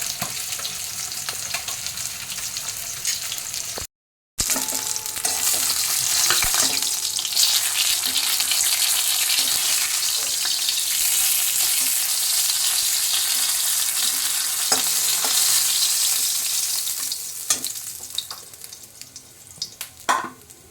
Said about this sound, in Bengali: একটু জিরে ফোড়ন দিলাম, একটু পেঁয়াজ কুচি